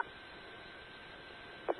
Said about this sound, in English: I got a fan running in the background.